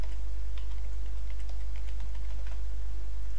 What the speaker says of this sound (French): Donc je tape en mot de passe.